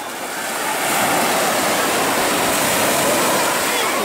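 Steady roar of surf washing onto the shore at Shamora Bay, Vladivostok, close and loud, building slightly in the first second and then holding as a continuous wash with no voices.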